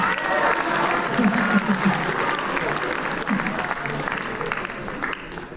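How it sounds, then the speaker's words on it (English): Audience applause at a cognitive behavioral theater show, dense clapping from a crowd mixed with murmured voices, steady and fairly loud throughout. "give a round of applause"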